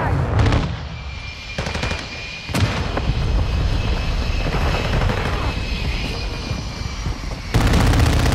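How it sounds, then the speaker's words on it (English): Call of Duty Modern Warfare II match with bursts of gunfire and a flash grenade going off, loud sharp cracks standing out over a steady roar of battle and aircraft noise, with a high whine lingering between blasts. "Throwing flash grenade."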